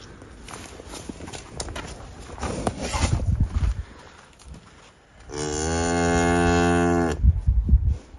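Pregnant dairy cows on a farm near Kara-Balta in Chuy region; one long, loud nearby moo rings out midway, with shuffling, hoof and handling noises before and after.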